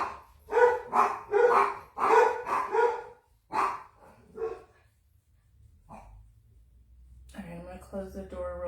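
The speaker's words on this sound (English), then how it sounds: "Close the door real quick while they're out there barking." Several dogs bark outside in a quick cluster of loud, sharp barks, then a few scattered ones and a pause, followed by someone talking nearby.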